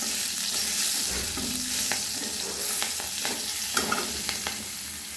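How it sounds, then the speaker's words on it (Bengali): Black cumin and green chilies spluttering in oil left from frying fish, a loud continuous sizzle with scraping stirring strokes and small crackling pops throughout. "এবারে মাছ ভাজা তেলে আমি কালো জিরে আর কাঁচা লঙ্কা ফোড়ন দিয়ে দিলাম"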